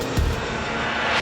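An airplane flying at Hong Kong International Airport gives a continuous broad engine roar at moderate loudness, with a brief low thump near the start and a swell at the end.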